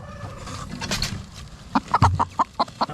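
Chickens cluck inside a farm building during freezing weather, a rhythmic series of short, close clucks following some rustling and a brief squawk.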